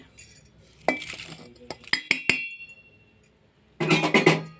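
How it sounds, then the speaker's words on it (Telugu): Leaves being pounded and ground into a fine paste in a vessel, heard as sharp clinking knocks in uneven bursts, close and moderately loud, with quiet gaps between. "ఈ ఆకులను వేసేసుకుని నూరేసుకోవాలండి ఈ విధంగా నూరేసుకుని మెత్తగా చేసేసుకోవాలి"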